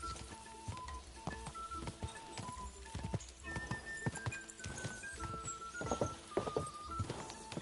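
Hooves clip-clop in an even, unhurried rhythm as a slow horse is ridden in the video game Kingdom Come: Deliverance II, moderately close, over quiet ambient game music with no talk.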